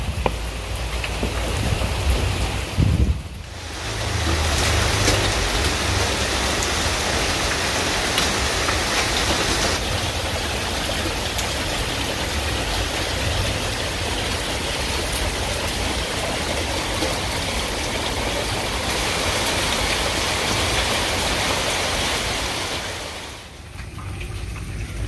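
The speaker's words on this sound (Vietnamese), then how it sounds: "Mưa quá trời mưa cả nhà." Heavy rain pours steadily on a rural Vietnamese home, a dense continuous roar of water on surfaces that holds for most of the stretch, with a brief lull near the start and fading at the very end.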